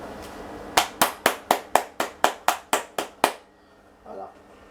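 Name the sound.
hand clapping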